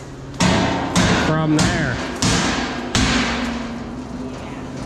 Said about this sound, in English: all this racket with the hammer, got this guy with a sledgehammer trying to straighten out some brackets